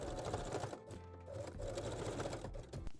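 A sewing machine stitches a lace bralette strap, close rapid needle chatter in two bursts separated by a short pause, with a low motor hum beneath.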